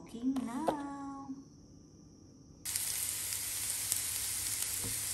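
Chicken frying in a pan for a Chinese stir-fry with mushroom and bamboo shoot: a short voice and clatter at first, then a loud, steady sizzle rushes in and holds to the end.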